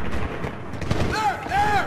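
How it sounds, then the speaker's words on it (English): AK rifle fire rattles through a Medal of Honor combat scene on hard difficulty, heard as a dense, rumbling crackle of shots mixed with whistling, sweeping tones and steady battle noise. "That is an AK fire."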